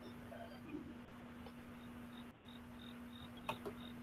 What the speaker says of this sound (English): I hear literal crickets somewhere on the line